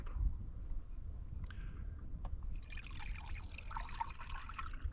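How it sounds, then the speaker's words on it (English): Water trickles and pours into a cup, a soft steady liquid stream running through the clip beneath low background rumble, close and fairly quiet. "water here, and I'm just going to add it to the cup."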